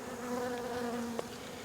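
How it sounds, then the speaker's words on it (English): Honey bees buzz in a steady, close drone around hive boards set out for them, with one brief sharper tap near the end. "These bees will leave and go back home."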